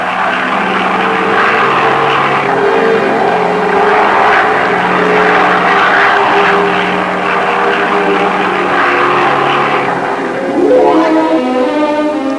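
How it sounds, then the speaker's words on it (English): Propeller drone of a converted Avro Anson bomber coming in to land, a steady, loud engine roar that shifts in pitch near the end as it touches down, with no voices. "the pilot loses no time making a landing with his converted Anson bomber."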